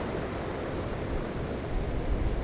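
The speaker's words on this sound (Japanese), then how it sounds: "波があるんで大迫力ですね。" Waves crash against the rocky shore of Izu Oshima, a volcanic island, as a continuous low rumbling surge with wind, swelling slightly near the end, with no talking.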